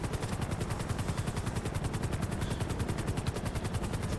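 A helicopter flies in GTA 5, its rotor beating in a steady, rapid chop that stays loud and close throughout, with no talk over it.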